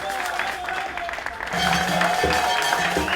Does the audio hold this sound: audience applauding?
yes